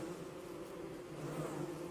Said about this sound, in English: The giant bee fields, filled with red hostile bees, is causing these plains to be traversed with difficulty.